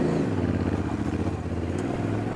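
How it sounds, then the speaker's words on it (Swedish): Yamaha Ténéré 700 adventure motorcycle being started, a close, steady low engine thrum that holds a rough idle with slight pitch shifts, with no voices. "Så han slår på sin motorcykel."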